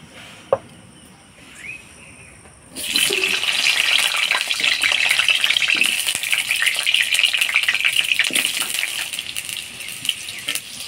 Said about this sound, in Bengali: মাংস আলুটা আমি হলুদ লবণ দিয়ে লাল লাল করে ভাজি নিব।